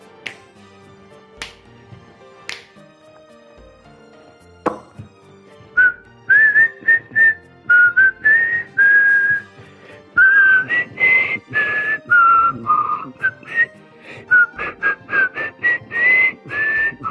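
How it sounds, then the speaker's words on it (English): A person whistles a wandering melody close up, loud and clear, after a few sharp snaps or taps at the start; the whistled tune grows busier and continuous toward the end, with no talking. "I've actually always been pretty talented at whistling."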